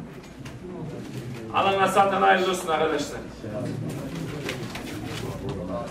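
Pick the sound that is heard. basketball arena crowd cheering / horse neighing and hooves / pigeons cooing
pigeons cooing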